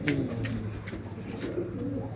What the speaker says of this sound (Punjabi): ਫੜ ਕੇ ਦੇ ਕਬੂਤਰ ਇਹਦੇ ਨਾਲ ਦੀ ਕਬੂਤਰੀ ਬਾਦਲ ਬਾਈ ਸੀ